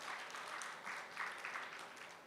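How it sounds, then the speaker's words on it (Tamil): An audience at a Tamil poetry speech applauds, soft, even clapping that sounds somewhat distant and continues steadily without a clear break. "இது சிரித்தபடி கைத்தட்டுகிறீர்கள்"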